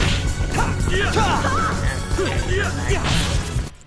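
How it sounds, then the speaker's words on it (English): Tinny Star Ocean 3 game sounds leaking from headphones into a microphone: crashes, whooshes and chirpy effects, with muffled voices, all faint and compressed before cutting off. "my headphones producing so much sound that it actually drifts over to the microphone and it picks that up"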